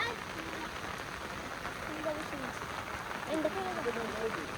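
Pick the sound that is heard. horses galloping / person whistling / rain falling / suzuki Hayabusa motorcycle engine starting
rain falling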